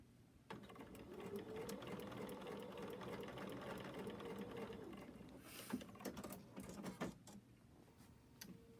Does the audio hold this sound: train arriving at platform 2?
no